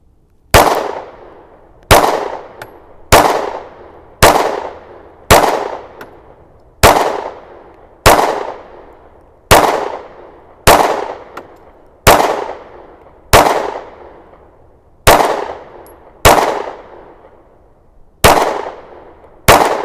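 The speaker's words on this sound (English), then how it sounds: "This is just a sweet shooting pistol." A Sig Sauer P365 XMacro 9mm pistol fires about fifteen loud, sharp shots at a steady, unhurried pace, each crack trailing into a brief echo.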